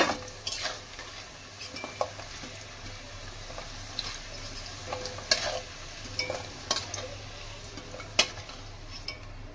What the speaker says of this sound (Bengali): এখন আলুটা আগে সুন্দর মতো আমি ভেজে নেব